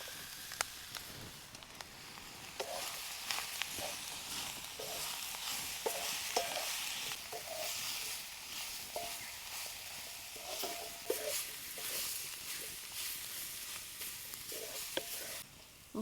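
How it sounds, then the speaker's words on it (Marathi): Onion, tomato, coriander and cooked katemath wild greens sautéed in a pan, a soft continuous sizzle with repeated light clinks and scrapes of stirring, fairly quiet and without talking. "मस्त अशी भाजी परतून घ्यायची."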